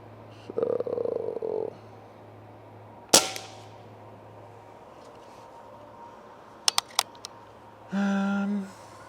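A Crosman 3622 PCP air rifle fires once at an outdoor target, a single sharp crack over a quiet background, followed later by a few faint clicks and a short hum.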